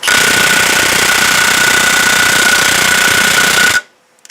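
A Milwaukee M18 impact wrench hammering on a truck wheel nut: a loud, continuous rattling burst lasting nearly four seconds, then cutting off abruptly into near silence.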